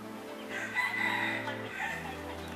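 A dwarf jungle fowl rooster crows once at a forest temple in the city of Khon Kaen. The crow is drawn-out and moderately near, over a low steady hum, with faint clucking afterward.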